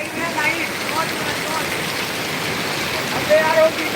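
Heavy monsoon rain in Konkan, around Sangameshwar in Ratnagiri, falls as a steady dense hiss with faint background voices.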